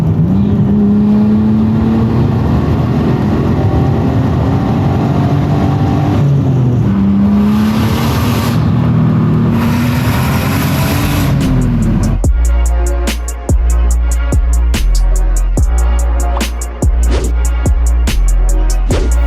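A Nissan Skyline R34 GT-R drives past up close, its engine droning with rising and falling pitch sweeps, then breaking into a fast, pulsing, rasping rhythm of revs and shifts.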